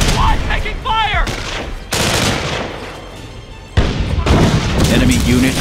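Battlefield gunfire in Company of Heroes: dense volleys of rifle and machine-gun fire with booming impacts, loud and continuous, while voices call out over the shooting.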